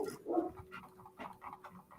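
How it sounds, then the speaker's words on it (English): Dogs pant and give soft whimpers close by in a quiet room, a brief louder burst at the start followed by short, faint huffs and breaths. "Sorry about the dogs."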